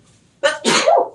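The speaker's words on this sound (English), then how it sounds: "I think I'm going to sneeze." A single person sneezes close by, a sharp intake followed by a loud explosive burst, alone in a quiet room.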